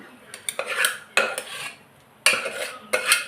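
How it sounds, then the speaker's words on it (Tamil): Cooked biryani is turned over inside a pressure cooker, with a spoon scraping and clinking against the metal in several close, busy bursts separated by short pauses. "இப்போ இந்த குக்கர் ஓப்பன் பண்ணிவிட்டு இப்போ நான் வந்து இதை இதோடு மிக்ஸ் பண்ணிக்கிடுறேன்"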